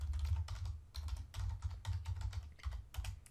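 Keys on a computer keyboard tap in quick bursts with short pauses between, the clicks crisp and close against a low background hum, with no voices.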